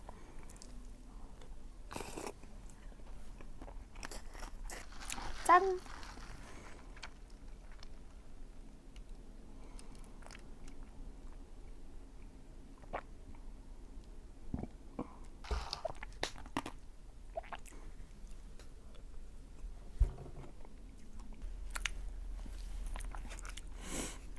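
Someone eats Korean bingsu, a shaved ice dessert, with scattered close crunching and biting bursts over quiet background noise, no talking.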